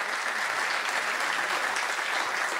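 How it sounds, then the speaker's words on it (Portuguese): Steady applause from an audience at a Rio de Janeiro state program launch honors state deputy André Siciliano, a dense even wash of clapping that holds for a few seconds. "pedir uma salva de palmas para o nosso deputado estadual"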